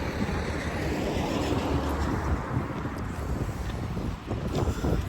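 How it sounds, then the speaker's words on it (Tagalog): Steady wind blows outdoors near water, roaring continuously into the microphone with low rumbling buffeting and a broad hiss, loud and unbroken for several seconds. "Hangin."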